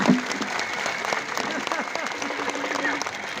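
An audience claps loudly in a sustained burst of applause that lasts the whole moment, dense and even from start to finish.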